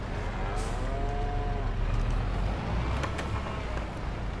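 Cattle in the farming game Farming Simulator 22 give a drawn-out moo early on, heard over a continuous low rumble of background noise.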